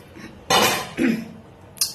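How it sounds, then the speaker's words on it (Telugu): A spoon drops into a dish, giving a bright clattering clink followed by a second smaller rattle as it settles, close and brief, with a faint clink just after. "అయ్యో స్పూన్ పడిపోయింది అందులోన"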